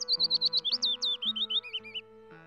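Blue bird chirping as a fairy-tale sound effect, a rapid series of bright, sweeping tweets over soft background music, close and clear.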